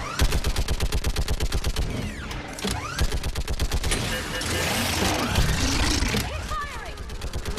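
Rapid bursts of automatic weapon fire in Mass Effect 3, a steady rattling rhythm that continues through the clip, loud and close with mixed game effects and shouted voices.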